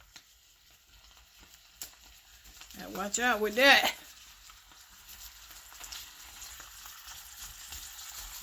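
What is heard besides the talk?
onions sizzling while sauteing in pan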